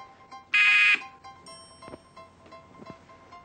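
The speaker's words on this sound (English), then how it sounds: "I'll start at the sound of the buzzer." A quiz-game buzzer sounds once, a loud flat tone lasting about half a second, followed by quieter faint tones and light room noise.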